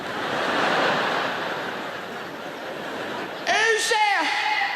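A comedian imitates a refrigerator's sudden night-time noise with his voice, a short warbling vocal burst rising over a loud roar of audience laughter and applause.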